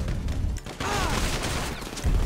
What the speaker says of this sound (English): let me just throw a grenade